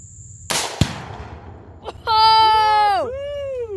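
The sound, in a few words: tannerite exploding on a carbon steel target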